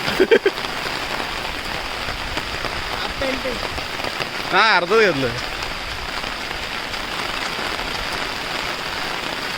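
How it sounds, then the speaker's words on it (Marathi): Heavy monsoon rain pours down in a Konkan village in a dense, steady hiss, drumming on nearby surfaces, with a few brief voices speaking partway through. "बघा जबरदस्त पाऊस आहे"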